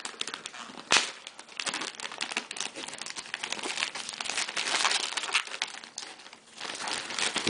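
Someone rips through a Bloon Bag laptop bag, making continuous close crinkling and tearing with a sharp snap near the start, crackly material noise throughout and no voices.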